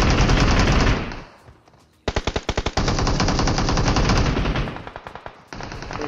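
Rapid automatic gunfire in the PUBG Mobile battle royale game, loud bursts of fast repeated shots, a short pause, then another long sustained burst and a final volley.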